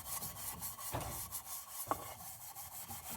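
A vintage Colman no. 530 A46 mini stove is scrubbed by hand, with rhythmic rasping strokes heard up close against a steady hiss.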